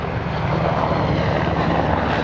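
A Merlin helicopter powered by three Rolls-Royce Turbomeca 322 engines roars steadily overhead at an airshow, a loud continuous engine and rotor drone without pause.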